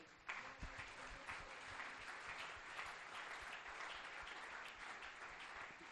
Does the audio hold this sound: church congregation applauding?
yes